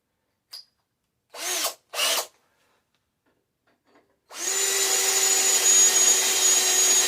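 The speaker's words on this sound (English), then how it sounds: "All right, got the hole drilled." Power drill boring a hole for an M5 bolt to fit a bike light mount on a basket bike, running steadily and loud for about three seconds after a few short bursts and a pause, with no talking.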